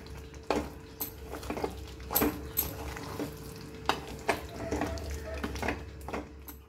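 Salt is stirred into Malvani chicken sukka in a pan, with repeated scraping and clinking of the spoon against the metal in an uneven rhythm, close by over a low background hum.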